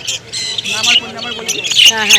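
Several birds squawk and chirp in shrill, overlapping bursts, close by, at a pet market in Dakshineswar, Kolkata, with busy background chatter and voices mixed in.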